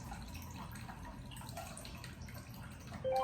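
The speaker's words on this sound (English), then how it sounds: "my water machine takes its precious time because it's putting out this good water" Water from an alkaline water machine trickling slowly into a container, a soft continuous stream with faint drips close by, a brief brighter tone near the end.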